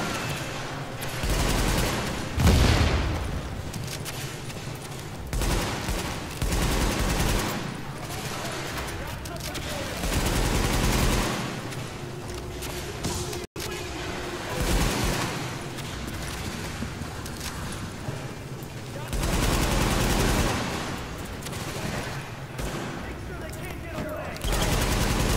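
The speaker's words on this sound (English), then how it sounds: "I'm just using my LMG, just standing here going." A light machine gun in The Division fires in long sustained bursts with short gaps between them, loud and close, and a voice talks over the shooting.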